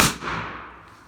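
A Quake Impact airsoft grenade primer firing, a single sharp loud bang up close followed by a short decaying echo.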